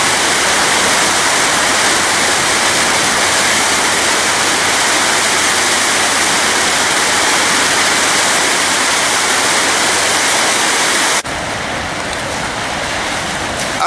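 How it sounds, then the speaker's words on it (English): Water from Cohoes Falls pours over a spillway dam in a dense, loud, continuous roar that drops slightly in level near the end. "this is the spillway dam. This comes off the Cohoes Falls. It comes over the spillway dam."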